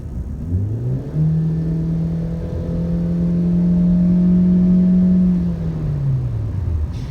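A Ford Mondeo Hybrid with a continuously variable transmission accelerates as its engine rises to a steady high-revving drone, holding one constant pitch for several seconds before winding back down, loud and close, with no talking.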